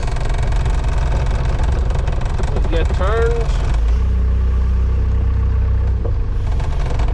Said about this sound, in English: this teleporter is very rattly and very banging, so you will have to excuse the noise.